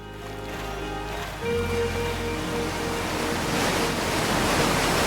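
A steady roar of rushing water from a waterfall in the video game Outer Wilds, a continuous broadband wash that swells slightly partway through, with no talk over it.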